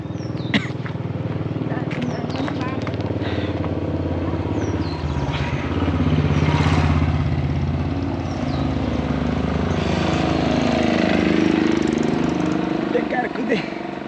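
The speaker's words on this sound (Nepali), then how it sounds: "मैले बाइक झिकिसकेँ" A motorcycle runs steadily close by, its engine drone and low rumble continuous throughout while a person talks over it.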